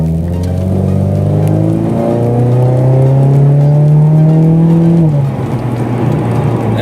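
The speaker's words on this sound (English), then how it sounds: "Now listen to my exhaust real quick." A car's aftermarket exhaust revs loudly and close in a rising, droning pull. The engine note climbs steadily for several seconds, then drops back to a lower idle-like rumble, with no talk.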